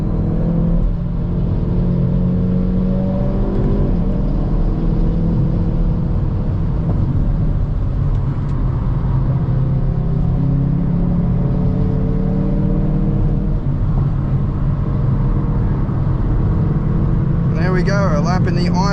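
Hyundai i30 N hot hatch lapping the Nurburgring, its engine droning loud and steady from inside the cabin, rising and falling in pitch through gear changes, with a brief shift in tone near the end.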